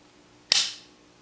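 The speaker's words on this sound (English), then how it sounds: "So if you can listen for it when the trigger breaks," A SCCY CPX2 9mm pistol dry-firing, its trigger breaking with a single sharp, close click that rings out briefly and fades, with no talk over it.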